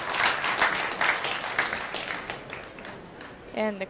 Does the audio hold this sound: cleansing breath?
no